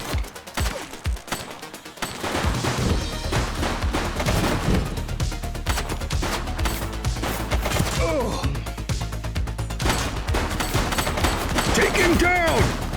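Rapid gunfire in The Precinct, a police video game, as a suspect opens fire during a chase, heard as a loud sustained fusillade of overlapping shots under game music, preceded by a few isolated reports.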